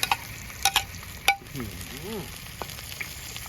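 Tomatoes frying in a pan while being stirred, a soft steady sizzle broken by a few sharp clicks and scraping strokes of the utensil against the pan.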